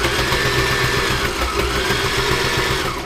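A sewing machine runs steadily, stitching a double rolled hem on fabric for a comfy cushion, its motor giving a close, continuous whirring hum for about three seconds with no voices.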